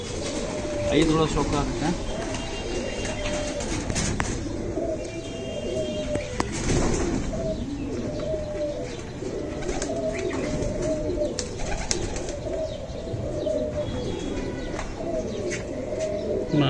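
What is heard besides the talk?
pigeons cooing and flapping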